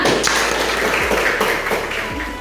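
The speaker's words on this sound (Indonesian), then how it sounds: "beri aplaus untuk temannya" Scattered clapping of a classroom applauding a classmate during a lesson on honesty, a steady patter of hands with a few sharper taps, fairly close and without voices.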